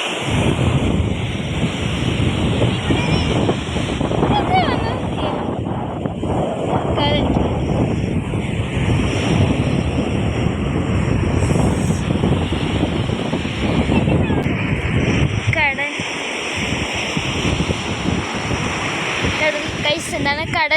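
Sea waves wash onto an evening beach while strong wind buffets the microphone, making a loud, continuous roar of surf and gusts, with a few faint voices mixed in.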